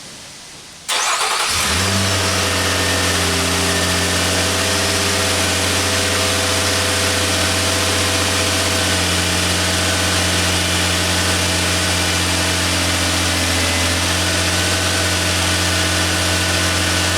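A Nissan Murano with a low power complaint and a newly replaced alternator cranks and catches, then settles into a loud, steady close idle with a constant drone and no talk.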